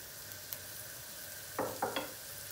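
Carrots fry in hot oil in a pan, giving a faint, quiet sizzle with a few sharper crackling bursts near the end; no one speaks.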